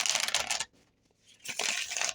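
A deck of tarot cards being shuffled up close, in two quick riffling bursts separated by a short silent pause.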